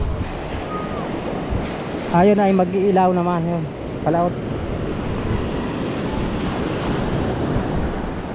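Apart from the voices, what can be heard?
ocean waves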